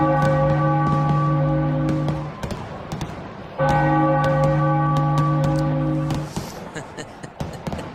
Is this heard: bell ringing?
yes